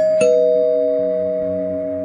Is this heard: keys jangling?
no